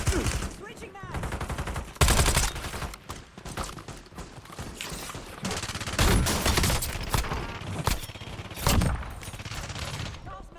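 Gunfire in Warzone, with irregular sharp shots and short bursts scattered among other game noise and clatter, loud and close throughout, with uneven spacing between the cracks.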